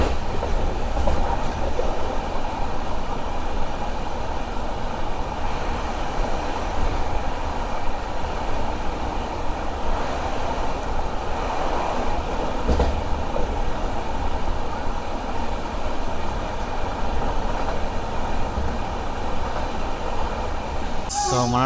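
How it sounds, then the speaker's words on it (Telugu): Falaknuma SF Express (12704) train from Secunderabad to Howrah runs through Duvvada station without stopping. A steady, loud rumble and rattle of wheels and carriages continues unbroken throughout, heard from inside a general coach. "సో మన ట్రైన్ వచ్చేసి దువ్వాడ రైల్వే స్టేషన్ స్కిప్ అయితే కొడుతుంది."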